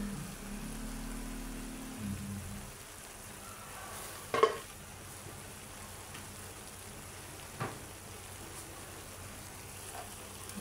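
Fish going into a pan of sautéing pechay greens gives a steady, even sizzle throughout, with one sharp clatter partway through and a softer knock later on.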